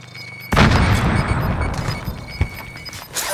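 A frag grenade detonates in a Call of Duty Warzone Resurgence match: a sudden loud boom, then a long rumbling blast tail with scattered crackles and distant pops.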